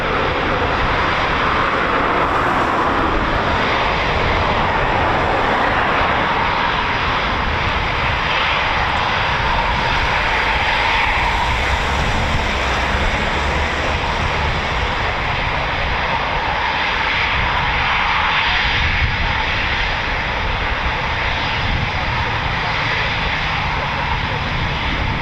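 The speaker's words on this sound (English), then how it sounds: "Mark Long, who was, while commentating, said you should never talk over a Typhoon because there's no point." A Eurofighter Typhoon FGR4 jet at RAF Coningsby, heard as a loud, sustained roar that fills every moment without pause, a continuous dense wash of engine noise with slow swells in tone.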